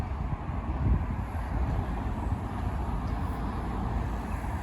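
Wind blows outdoors in a garden, a steady broadband rush with low gusty buffeting across the microphone, moderately loud and unbroken throughout.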